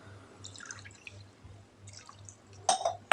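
Water poured from a cup into a bowl while making dhokla batter, heard as faint dripping and trickling with a couple of louder splashy pours near the end, against a low, soft background hum.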